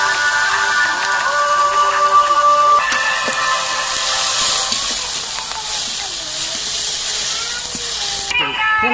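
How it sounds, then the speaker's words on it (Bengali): Onions fry in a pan for a dried fish mash with gourd leaves, making a loud continuous sizzle and hiss that runs throughout, close and steady, with a brief shift near the end. "এরপর পেঁয়াজ দিয়ে দিচ্ছে, পেঁয়াজটা হালকা করে একটু ভেজে নেবে"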